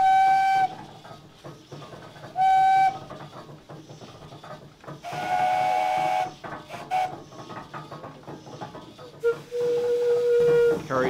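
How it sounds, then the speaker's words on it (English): A wood-fired steam donkey engine sounds several short whistle blasts of differing tones, each a sharp bright toot separated by hissing steam and mechanical clatter, with brief talking between them. "It carries a variety of whistles on it"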